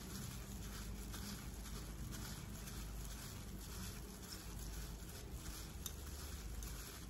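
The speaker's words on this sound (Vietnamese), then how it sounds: "Bột ngọt nè, bột nêm, muối tôm với lại bột tỏi Dung sẽ trộn đều lên." Seasonings of MSG, seasoning powder, shrimp salt and garlic powder are stirred into pan-roasted chicken, giving a steady, close sizzle of frying with continuous scraping and stirring throughout and no talk.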